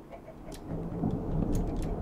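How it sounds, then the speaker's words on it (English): Thunder rumbles in the Minecraft modpack Agrarian Skies, a low, steady roll lasting the whole stretch with a faint rain-like hiss, growing slightly louder toward the end. "And that's the thunder. Not sure if you guys can hear that."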